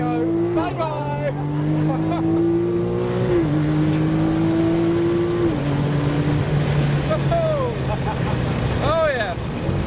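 A one-off modified Lamborghini Aventador V12 and a 1.0 Nissan Micra pull away together, loud engine notes climbing and shifting through gears, then rising again as they fade, with excited voices shouting over them.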